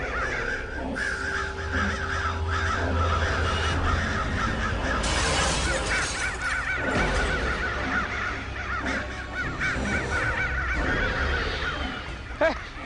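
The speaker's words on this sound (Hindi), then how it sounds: "इतना सारा कौवा उड़ रहा है लेकिन एक भी कौवा खाना ही नहीं खा रहा।" A large flock of crows caws continuously, many harsh calls overlapping near and far over a steady outdoor din.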